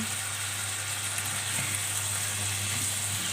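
Fish and celery stir-fried in a hot pan, a steady, close sizzle with light scraping and stirring running throughout, no voices.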